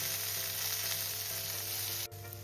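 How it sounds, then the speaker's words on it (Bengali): Onion and capsicum frying in a pan with a little salt, a steady close sizzle running throughout, broken by a brief dip near the end. "দেখো পেঁয়াজ আর ক্যাপসিকামটা কিন্তু মোটামুটি ভাজা হয়ে গেছে"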